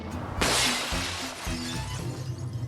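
A loud shattering crash from a slapstick crash test, a sudden burst of breaking glass followed by a scatter of falling debris and a low rumble beneath.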